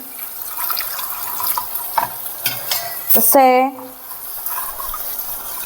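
Water poured into a hot misal pan sizzles and bubbles steadily on the stove, with a brief louder hiss midway and someone talking over the cooking.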